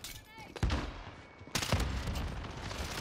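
A Sykov pistol fires in Modern Warfare in two bursts of rapid shots, loud and close, with a short lull between them.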